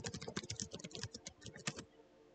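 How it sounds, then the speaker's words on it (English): Rapid, frantic typing on a computer keyboard, a close, dense run of clicky keystrokes in an irregular burst that stops abruptly, with no talk. "Me typing frantically."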